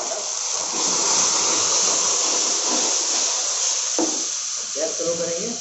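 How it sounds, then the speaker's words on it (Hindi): A steady loud hiss and sizzle as water is added to a hot pan while cooking dal tadka, running throughout with a faint clink near the end. "इसके बाद से ऐड करेंगे वाटर,"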